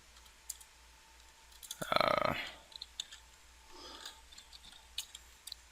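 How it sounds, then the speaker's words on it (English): Computer keyboard typing in a Kali Linux password-cracking session, a short burst of clustered key clicks near the middle, close and moderately loud, with faint scattered taps before and after in a quiet room. "I'm just going to type it in because I know where it is."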